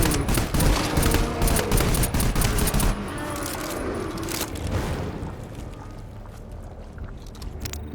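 Rapid automatic gunfire from the video game GTFO, dense bursts of shots up front that thin into scattered firing and rumbling combat noise, loud and close throughout.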